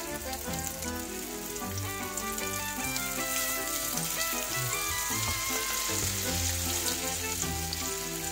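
Eggplant frying in hot oil in a pan for tortang talong, a steady dense sizzle with crackling pops, continuous and close, over quiet background music.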